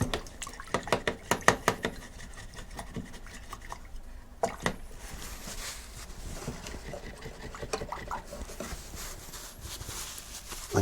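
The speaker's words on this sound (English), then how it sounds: "So I just washed my brush and I use two different types of pails." An acrylic paintbrush is swished and rinsed in a pail of water, with sharp clinks and knocks against the pail at first, then soft, continuous sloshing and dripping, close and fairly quiet.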